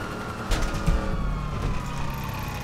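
A police car siren in the GTA 5 video game, from a stolen cruiser, wails steadily through the whole stretch alongside a rumbling car engine, loud and close, with a few bumps and thuds of driving.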